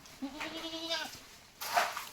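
A goat gives one wavering, nasal bleat up close, followed by a burst of rustling noise.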